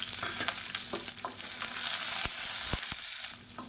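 Chopped shallots, dried red chillies and curry leaves fry in oil in a pan, a close, continuous sizzle broken by sharp pops and the scrape of stirring, with no talking.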